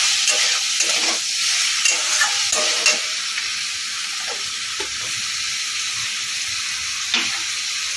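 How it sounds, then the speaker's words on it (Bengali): Bottle gourd fries in a pan with a steady, close sizzle and hiss while a spoon stirs it in repeated scraping strokes. No one speaks. "আবারও ভালো করে নাড়বো"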